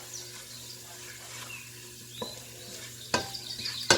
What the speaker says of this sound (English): we're going to stir to combine these